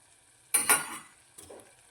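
A short hiss of potatoes hitting hot oil, with a stirring scrape and a softer sizzle a moment later, close up.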